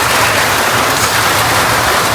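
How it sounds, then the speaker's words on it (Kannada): Heavy rain pours steadily in a village, a dense, even, loud hiss that fills the whole stretch without a break, with no voices. "ಅದು ಜೋರಾಗೆ ಬರ್ತೈತೆ ಮಳೆ ಇವತ್ತು ನೋಡಿ."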